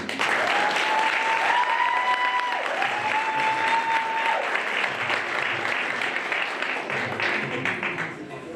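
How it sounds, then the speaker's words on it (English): A crowd applauds warmly, dense clapping that holds steady for several seconds before thinning slightly toward the end. "I think the round of applause was not sufficient"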